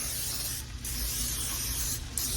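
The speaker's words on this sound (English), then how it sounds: "Cooking spray." Two bursts of cooking spray hiss close by into a 9x13 casserole dish, a long spray followed by a short pause and another spray, with no talking.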